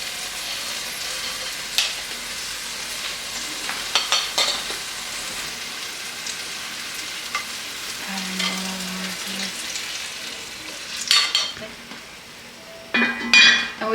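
Beef short ribs sizzling in a Dutch oven, a steady low frying hiss with occasional pops and light metallic clinks, followed by louder lid and pot clatter toward the end.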